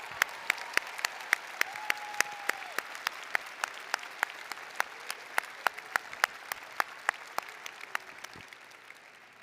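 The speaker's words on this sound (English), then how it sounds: "Let's give you a round of applause." Faculty and staff at a spring commencement for doctoral, MFA and medical degree candidates receive a round of applause, heard as sharp, distinct claps spaced through the clip against a quieter hall background, fading slightly toward the end.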